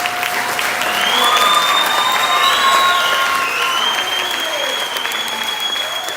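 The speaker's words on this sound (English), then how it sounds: "how about another round of applause for all of our band students?" Sustained audience applause at a school spring band concert, steady and full for several seconds, with some cheering mixed into the dense clapping.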